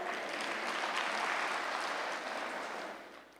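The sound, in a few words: applause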